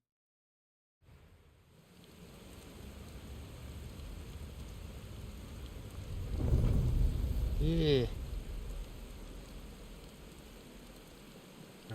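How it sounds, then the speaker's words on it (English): Steady rain hisses throughout in the video game Final Fantasy XVI, and a deep roll of thunder swells midway before fading back under the rain; a brief voice speaks once. "We're back outside and it's raining."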